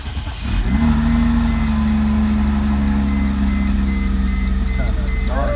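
A 2004 Mercedes SLK 320, a flood-damaged car, cranks briefly and catches, then settles into a loud, steady idle with a droning engine tone close by.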